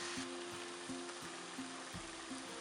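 Tempeh browning and crisping in a pan, a steady, even sizzle and hiss with a faint repeating pulse under it, close and with no talk.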